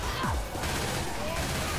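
Rapid gunfire in the video game Left 4 Dead 2 during a Tank fight on the No Mercy campaign, a continuous rattling fusillade under other game noise with a sweeping tone, fairly quiet overall.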